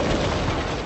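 A loud explosion in Resident Evil 7, a dense broadband blast that fills the whole short moment with rumbling roar.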